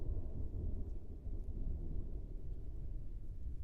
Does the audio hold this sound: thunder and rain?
yes